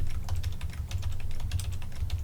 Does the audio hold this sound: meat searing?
no